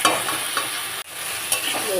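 Eggplant and potato being sautéed in a pan, with a steady sizzle under scraping stirring strokes and one brief break in the middle; no voices.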